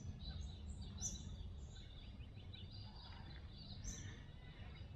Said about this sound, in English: I don't know if you can hear all the birds going.